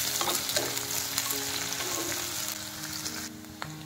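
Garlic, onion and chilli frying in a pan, a close, dense sizzle with occasional stirring clinks, continuous and fairly loud, easing slightly toward the end, no voices.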